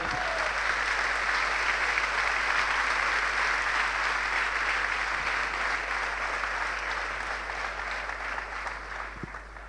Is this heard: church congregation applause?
yes